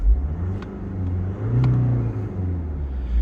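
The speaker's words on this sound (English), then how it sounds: "Let's give it a quick rev." A 2011 Audi A3 1.6 TDI diesel engine idles with a deep, steady rumble, then revs up briefly and settles back, heard close with no voices.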